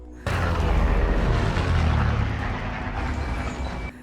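A World War II warplane roars low overhead during an attack, a loud sustained engine rumble that starts abruptly and holds before cutting off near the end.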